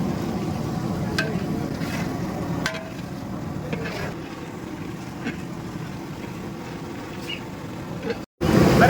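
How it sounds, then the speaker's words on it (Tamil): Onions sauté in a pan with a bay leaf for hotel-style biryani, giving a steady, low sizzle with faint scraping and stirring ticks, continuous until a brief cut near the end. "இப்போ பார்த்தீங்கன்னா வெங்காயம் நல்லா வதங்கிட்டு இருக்கு"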